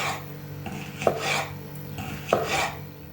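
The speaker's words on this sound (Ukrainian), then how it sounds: "6 штук болгарського перцю помила, розрізала на ось такі смужки, вичистила серцевинку, плодоніжку і нарізаємо дрібною соломкою" A knife cuts bell peppers into thin strips on a board, making a few quiet, evenly spaced slicing strokes with a soft scrape, and no talking.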